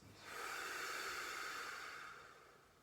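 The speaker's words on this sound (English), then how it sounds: "For 5 breaths, breathing in" A long, steady in-breath during a spine mobility exercise swells for about two seconds as a soft airy hiss, close and alone, then fades.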